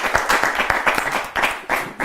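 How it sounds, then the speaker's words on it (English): A small group claps together in a quick, uneven patter of sharp hand claps, close by and fairly loud. "give Dave a big round of applause"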